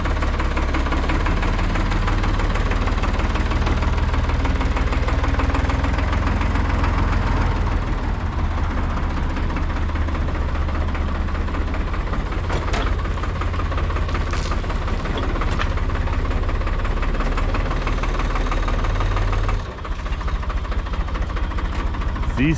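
An IHC 633 tractor engine idles close by with a loud, steady low rumble and a faint knocking pulse, running continuously with a brief dip near the end.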